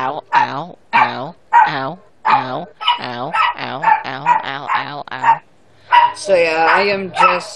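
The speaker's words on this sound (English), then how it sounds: "And that is a dog." A dog barks repeatedly, loud and close, in a quick series of yaps and bow-wows picked up over a Skype call, with someone talking between and after the barks.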